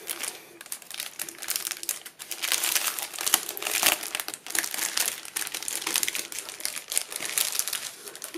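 Crinkly plastic packaging of Halloween craft embellishments for a witch-themed wreath being opened close up, a steady run of crackling, crumpling rustles with brief pauses and no talk.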